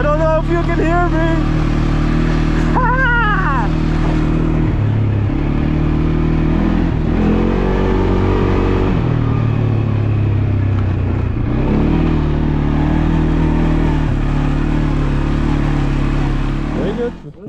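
A motorbike engine drones near Kathmandu as the rider accelerates, its steady tone rising and falling in pitch with throttle and gear changes. A voice talks over the engine throughout.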